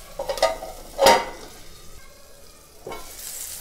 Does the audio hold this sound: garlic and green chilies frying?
yes